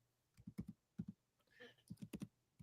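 Rapid bursts of computer keyboard typing, clusters of crisp key clicks separated by short pauses, close and fairly quiet, with a brief faint tonal sound in the middle and no talking.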